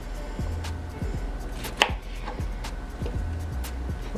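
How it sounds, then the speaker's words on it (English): Cucumber being cut into pieces with a knife on a board, a steady series of about seven crisp chops at a regular rhythm, close and clear, with no voices. "Just cut it into pieces and pop it inside your blender cup."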